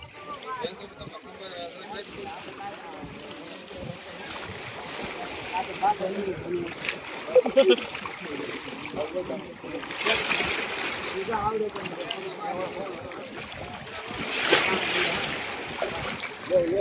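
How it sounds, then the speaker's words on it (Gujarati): A boat moves through open sea water, with a steady wash and splashing that surges in louder waves, while voices talk over the churn. "ફાઇનલી બોટ આવી ગયું છે ને બોટમાં હવે આપણે જવાનું છે"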